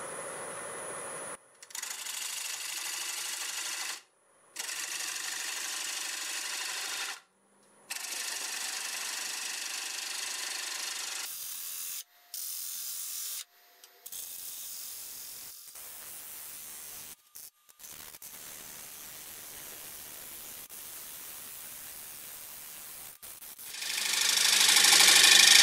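A wood lathe at 180 RPM turns a segmented ripple bowl, giving a soft, hissing cutting noise in several bursts broken by short pauses, with a louder rush near the end.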